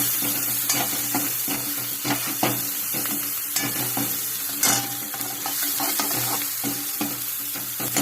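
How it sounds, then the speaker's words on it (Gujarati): Tempered khichdi with onions fries and sizzles steadily in a pan while a spoon stirs it, with close scraping strokes and clinks recurring over the constant crackle and no voices. "હવે આપણે આને થોડી વાર ફેરવી"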